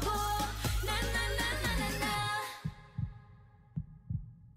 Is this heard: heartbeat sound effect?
yes